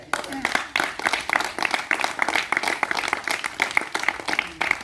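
Children clap together in a quick, uneven burst of applause at a school Rakhi celebration, close and fairly loud, with some voices mixed in.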